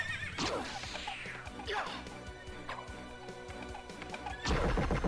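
A horse in Castlevania: Symphony of the Night neighs in a shrill descending whinny, repeated several times over crashing, whacking game sound effects and music, with a final loud smash near the end.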